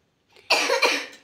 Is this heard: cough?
yes